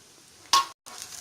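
Green chilli, ginger, cinnamon and fennel stirred in a frying pan: a single short scrape and sizzle burst, then a brief silence and a soft continuing hiss.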